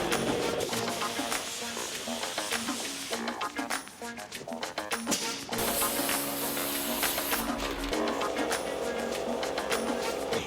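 Spray gun applying single stage turquoise paint to a truck cab, a loud continuous hissing spray that pauses briefly and resumes, with background music underneath.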